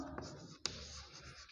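Handwriting on paper while working out a class 9 number-systems maths solution, with soft scratchy pen strokes and one brief sharp tap, faint and close.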